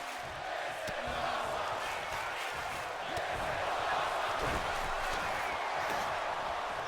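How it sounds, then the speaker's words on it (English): A wrestling arena crowd roars wildly and continuously during an indoor match, a dense sustained wall of cheering and shouting with occasional thuds beneath it. "The crowd going absolutely wild right here."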